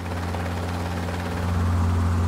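A large cargo helicopter able to lift about 35,000 pounds flies close by, its loud, steady rotor drone and turbine roar continuous throughout and swelling slightly toward the end, with no voices.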